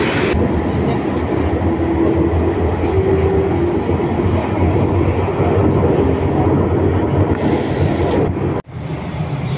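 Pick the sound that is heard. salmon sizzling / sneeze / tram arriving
tram arriving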